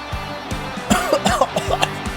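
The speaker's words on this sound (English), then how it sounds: "That's a cough attack." A voice breaks into a close, loud coughing fit of repeated harsh bursts and throat clearing, heard over football-match background sound.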